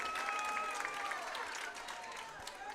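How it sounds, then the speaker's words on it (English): A crowd at a youth football championship game applauds the cheerleaders, moderate clapping mixed with some crowd noise and a few tonal sounds, easing slightly toward the end. "How about another round of applause for your Hector Wildcats cheerleaders?"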